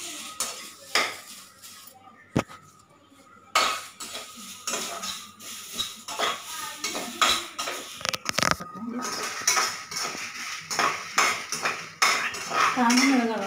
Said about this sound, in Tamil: இப்போ கடலைப்பருப்பு வறுத்துட்ருக்கோம், இப்போ கருவேப்பிலை வறுத்துட்ருக்கோம்.